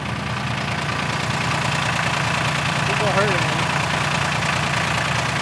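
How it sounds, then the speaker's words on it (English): A tractor engine idles steadily and continuously in the background on a snowy property, a low even rumble running throughout while a person talks over it. "So the tractor's okay running, right?"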